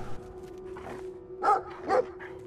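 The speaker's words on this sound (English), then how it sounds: "We got a big dog." A big dog in the video game Brothers: a Tale of Two Sons gives two deep, loud barks in quick succession over a low steady hum, with no speech.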